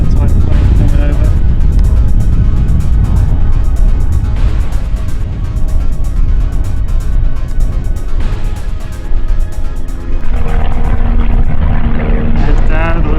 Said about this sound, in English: Little Cessna type plane coming over.